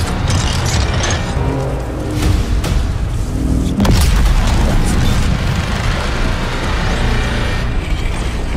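Deep, continuous artillery booms roll through a dense battlefield din in the PS5 game Justice League vs Suicide Squad, with a few heavier impacts standing out.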